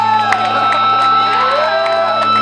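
Crowd at a live show at a VFW hall, cheering and whooping loudly with steady applause filling the room.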